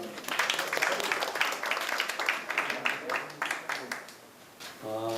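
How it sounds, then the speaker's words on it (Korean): Applause from a forum audience as a moderator is welcomed, a dense patter of clapping for several seconds that thins out near the end, with voices talking underneath. "여러분들 큰 박수 부탁드립니다."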